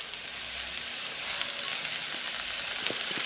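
Leeks tipped into hot oil for a leek, bacon and ham tartiflette, settling into a steady, airy sizzle and hiss with a few faint crackles, no talking.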